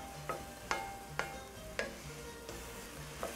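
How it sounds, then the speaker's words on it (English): Mushroom risotto is stirred in a pan, with about six distinct scraping strokes of a utensil in a slow, steady rhythm over a soft low sizzle, quiet and close, no speech. "So now I'm starting to stir."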